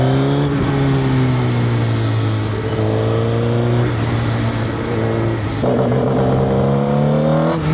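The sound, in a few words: Suzuki GSX-R1000 motorcycle revving at full throttle in second gear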